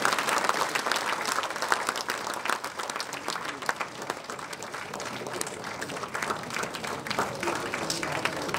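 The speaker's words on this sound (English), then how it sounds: "Give her a big round of applause, ladies and gentlemen." Lecture-hall audience giving a big round of applause for a girl, dense sustained clapping that stays loud and even throughout, with no voices over it.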